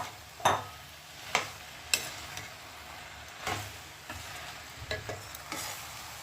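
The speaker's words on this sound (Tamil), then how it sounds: "இப்போ நல்லா வதக்கிட்டேன்" Beef boti pieces stirred and sautéed in a pan, with scattered scraping stir strokes over a steady close sizzle for several seconds, no talking.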